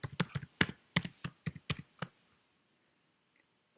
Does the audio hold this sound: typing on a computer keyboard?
yes